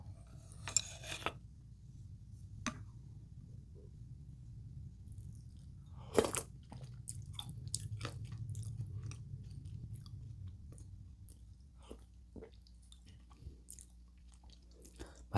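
Someone eats Pulmuone noodle soup with a bowl of rice, giving scattered soft chewing and slurping, with sharp clinks of cutlery against dishes over a quiet low hum.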